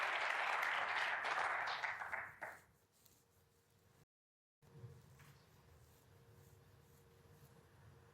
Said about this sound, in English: He deserves that round of applause.